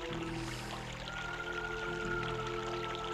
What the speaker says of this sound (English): Yeah, I hear some water.